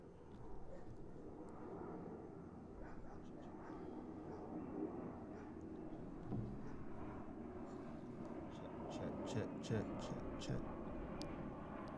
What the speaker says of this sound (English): You can hear the plane overhead because we're outside.